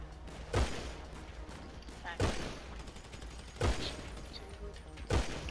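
Revolver shots in a multiplayer shooter game ring out one at a time, four sharp loud bangs spaced about one and a half seconds apart over constant background game noise.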